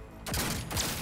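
Gunfire from the Cyberpunk 2077 video game: two loud, dense bursts of shots, one starting near the beginning and another shortly after, each with a booming low-end body and no talk over them.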